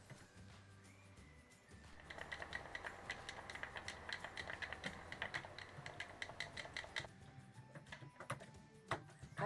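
Rapid clattering keystrokes on a computer keyboard, a dense run of close, irregular clicks lasting several seconds with no talk over them.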